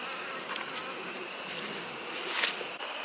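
Buzzing of a honeybee colony raised for breeding queens in spring, a steady insect drone close by with a brief louder swell near the end, no voices.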